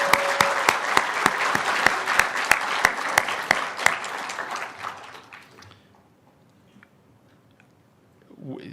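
Applause at a political conservative talk, loud and dense with sharp claps for about five seconds, then fading to near silence.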